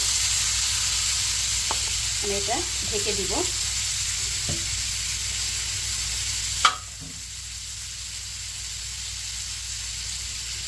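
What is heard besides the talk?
marinated dried bamboo-leaf fish frying in a hot wok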